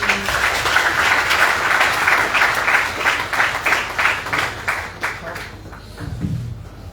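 Audience applause at a formal Rotaract and Interact club induction ceremony in Mali, a dense steady crowd clapping for several seconds before thinning out, with a faint voice near the end.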